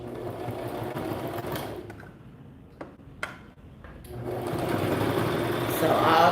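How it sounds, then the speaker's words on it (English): Sewing machine running a straight stitch on a beginner summer top, a fast steady whir that drops to a pause with a few ticks, then resumes and swells; a voice talks over parts of it. "Right, we're gonna start sewing."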